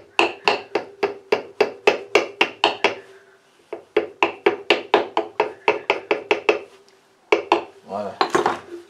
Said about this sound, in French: Marteau.